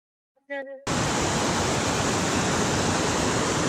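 Water pours heavily from Girna dam, a loud, steady broadband roar that starts abruptly after a brief voice and continues unbroken.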